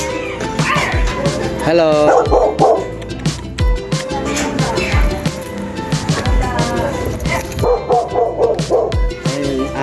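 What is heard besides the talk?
dog barking and whimpering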